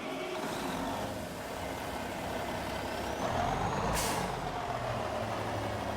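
A heavy truck engine in Farming Simulator 25 starts up, rumbles steadily and swells as it revs, with a sharp burst of air-brake hiss midway.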